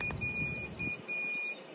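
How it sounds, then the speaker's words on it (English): Several short electronic beeps from a boat's bow thruster control panel, a steady high tone cut into separate pulses after the button is pressed, heard close up over low background rumble. "it beeps, press it again."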